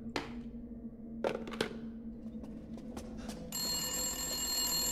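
Telephone ringing in the video game Resident Evil Village, a bright sustained electronic ring starting late and continuing steadily, preceded by a few soft thunks and clicks in a quiet room.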